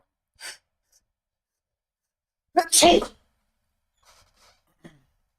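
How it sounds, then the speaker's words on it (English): A single sharp human sneeze, close and loud, set among quiet stretches with a few faint breaths and small noises before and after. "I need to find a way to not sneeze while doing it."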